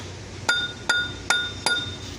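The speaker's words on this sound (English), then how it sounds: "So I carefully take the hammer, just kind of" Four evenly spaced, light metallic taps ring out, each leaving a short bright ring, a hammer striking metal tubes up close on a 1998 Dodge Neon.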